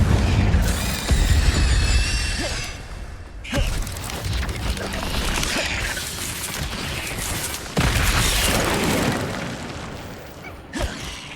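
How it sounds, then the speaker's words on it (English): Incendio fire spell cast during combat in the PS5 game Hogwarts Legacy, several bursts of whooshing flame and booming impacts layered over dense game effects, loud and close, with spoken incantations in between. "Incendio!"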